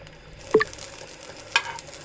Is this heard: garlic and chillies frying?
yes